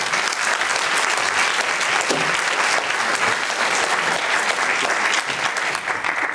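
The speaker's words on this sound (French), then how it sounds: "On applaudit Jean-Jacques Hano." An audience at a French film festival event claps steadily and loudly, a dense sustained round of applause filling the room, with a few voices faintly audible underneath.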